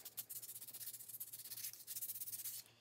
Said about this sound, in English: It's always a good idea to touch it up with a sanding block.